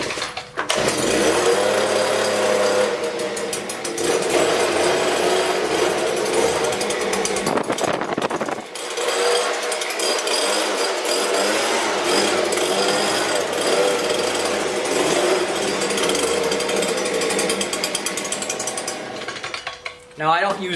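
Stihl BG86C handheld leaf blower started on choke, its two-stroke engine roaring loud and steady at close range for the full stretch, with one brief dip in the middle before it picks back up.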